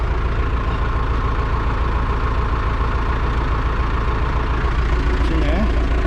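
A tractor engine idling, a continuous low rumbling drone that holds steady and close throughout, with no talk over it.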